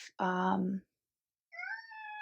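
A cat meows twice nearby, a long drawn-out call followed by a pause and then a shorter, higher meow, both clear with no talking over them.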